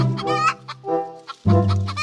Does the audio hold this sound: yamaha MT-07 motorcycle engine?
no